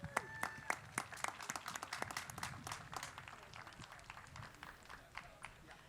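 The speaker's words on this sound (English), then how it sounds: "another round of applause for our chairman, Sandra Button." An audience applauds the chairman at a classic car concours: a crowd of scattered claps, fairly dense at first and gradually thinning and fading over several seconds, heard at a distance.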